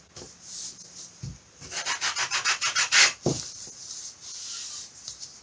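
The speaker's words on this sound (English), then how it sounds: "Sand the tabs off, so they're not going to sit flat when you assemble the wing" Wooden wing ribs for a 1/6th scale Tiger Moth model being sanded by hand, a quiet series of rapid rasping back-and-forth strokes close by, with a few scattered taps.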